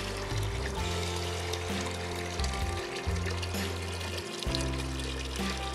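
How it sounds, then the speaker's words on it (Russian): Water gushes and gurgles through a newly laid sewer pipe in a continuous, hollow rush with some low rumbling swells. "Сейчас, значит, вот пошла вода."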